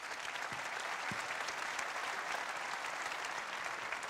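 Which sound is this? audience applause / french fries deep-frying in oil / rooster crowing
audience applause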